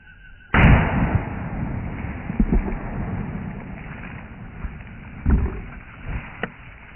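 A single loud gunshot from a Ruger GP100 .357 Magnum revolver firing Remington UMC 125-grain ammunition outdoors, a sharp blast followed by a sustained rushing, rumbling noise with a few softer thumps.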